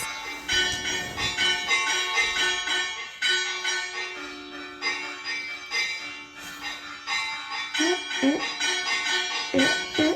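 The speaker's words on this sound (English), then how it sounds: "we were woken up by these bells" Church bells clang repeatedly in an irregular, ongoing peal on an island, loud and ringing with overlapping tones.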